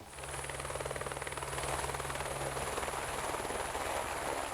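A helicopter flies over a remote plateau in the Putorana region, its steady rotor and turbine drone loud and continuous throughout, with a faint high whine above.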